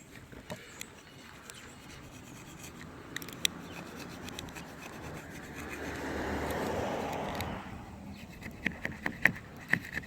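Hand scraping of hardened excess resin off a windshield chip repair. The rasp is close and soft and builds into a steadier scrape. Light ticking contacts follow toward the end.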